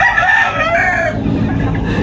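A single rooster crows loudly and close on a gamefowl farm kept with imported hens, one long drawn-out call that fades into a low background murmur.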